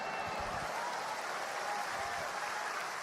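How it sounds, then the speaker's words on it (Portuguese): A church congregation claps during a Pentecostal-style worship service, the applause faint and distant but continuous, a soft steady wash of hands with no clear speech over it. "dá um aplauso a Ele"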